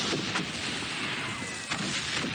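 Artillery fire in the World War I game Valiant Hearts: The Great War: a dense, continuous rumble of distant booms and crackling blasts, with two sharper bursts standing out, no talk over it.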